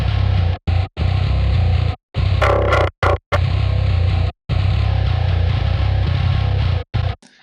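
Heavily distorted, down-tuned metal guitar from a Meshuggah "New Millennium Cyanide Christ" mix plays in loud, dense chugging bursts with abrupt stops and syncopated gaps.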